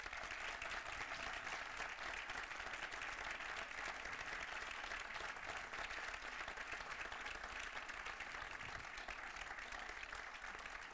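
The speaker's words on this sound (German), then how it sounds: "Begrüßen Sie mit einem heimisch-badischen und trotzdem weltgewandten Applaus Hanna Böhme!" Audience applause in a school hall welcoming a guest onto a talk stage, an even, continuous spread of many hands clapping at a moderate distance, with no break across the whole stretch.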